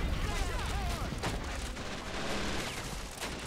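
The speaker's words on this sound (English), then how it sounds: "And yes, those bombs are incoming." Bombs exploding in a World War II D-Day battle in a Men of War: Assault Squad 2 mod, a continuous dense roar of blasts and gunfire with whistling sounds, loud and unbroken throughout.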